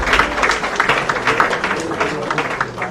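Audience at a football association congress applauding the elections committee and employees, a dense, continuous patter of many hands throughout.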